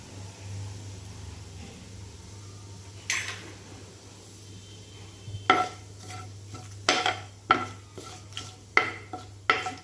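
Cumin seeds and curry leaves hit hot oil in a pan for masoor dal, giving a low steady hiss under a series of sharp clinks and stirring scrapes that grow busier toward the end.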